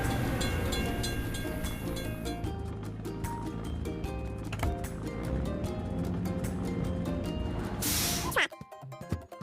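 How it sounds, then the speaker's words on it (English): A train rolls past a closed crossing gate in a children's video game, a steady rumbling clatter with tonal chimes, ending in a short burst of game effects; a voice talks over it. "We have to wait for the train to pass."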